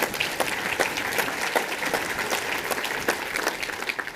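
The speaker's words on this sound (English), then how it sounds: "Please join me in giving them a round of applause." Audience applause for previous speakers at a leadership summit presentation session, a steady scatter of many hands clapping at moderate volume, somewhat distant in the room.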